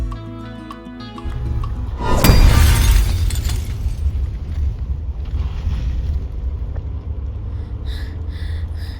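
A stone crashes onto a car in the Spiti Valley near Tabo, shattering its window glass in one loud, harsh burst, set against steady roaring wind and engine-like rumble that continues afterward.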